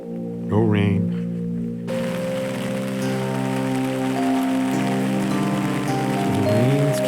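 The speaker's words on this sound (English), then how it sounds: "So the rains came." Rain falling steadily in the North Maine Woods, a constant hiss running throughout beneath a strong tonal hum, with a brief voice near the start.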